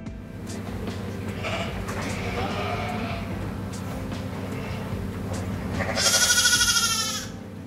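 Icelandic sheep bleat on a farm in Iceland, a loud, wavering cry standing out near the end over steady farmyard background noise and fainter earlier calls.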